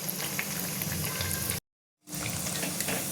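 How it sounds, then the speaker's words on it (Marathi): Wheat-flour biscuits deep-frying in oil over a low flame, a dense, steady bubbling sizzle heard up close that cuts out briefly and then resumes just as loud. "आता ह्याच्यामध्ये सोडून मी तळून घेते"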